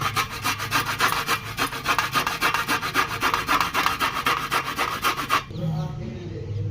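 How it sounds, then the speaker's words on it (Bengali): Beetroot and carrot are rubbed on a hand grater in quick, rhythmic rasping strokes, close and fairly loud for about five seconds before stopping abruptly, leaving a quieter tail. "বিট গাজর ঘষে নেব।"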